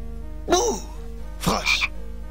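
A frog croaks twice in Simon the Sorcerer, each a short, warbling, throaty call about a second apart, clear and close over a faint steady hum.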